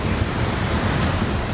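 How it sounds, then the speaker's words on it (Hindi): A monsoon-flooded river in Kullu, Himachal, roars loudly and continuously, a dense, steady rush of churning water with no voices. "जहां नदी अपने शबाब पर है। कल कल की जगह डरावनी आवाज सुनाई दे रही है।"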